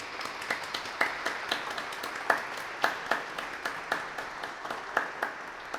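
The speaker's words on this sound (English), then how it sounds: "Please give them an applause." Sparse, scattered applause from a small audience at a church gathering, individual claps distinct and irregular, fairly quiet and somewhat distant.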